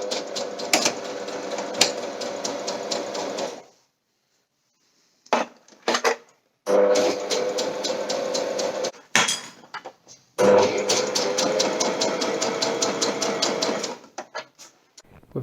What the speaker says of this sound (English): So I'm just going to put a hem on each edge of this